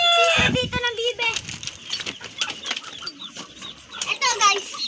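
High, thin peeping of ducklings comes through repeatedly, mixed with close talking and rustling movement.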